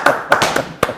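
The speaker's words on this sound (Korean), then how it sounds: "박수 한번 주세요." A handful of separate, sharp claps from a small audience, four or five distinct loud strikes spaced irregularly across about a second.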